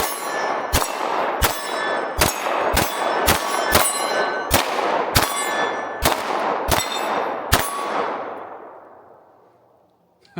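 Pistol shots from a Ruger RXM ring off steel targets, about ten sharp metallic clangs at an irregular pace, each with a bright ringing decay, the last one fading out slowly.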